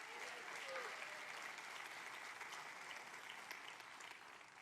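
A church congregation applauds steadily, a soft, even patter of many hands heard from some distance, continuing without a break.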